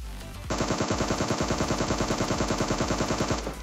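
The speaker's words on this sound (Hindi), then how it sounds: "यहाँ पीछे एक बंदा बॉट फायरिंग करता है भाई, मतलब बुलाने की कोशिश करता है" A player behind opens fire with an automatic weapon in PUBG Mobile: one steady, rapid burst of evenly spaced shots lasting about three seconds, moderately loud and without talk.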